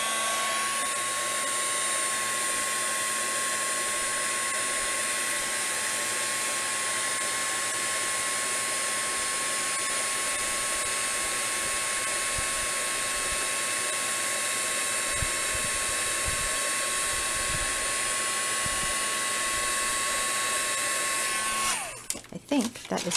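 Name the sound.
heat gun blowing hot air to melt foil on card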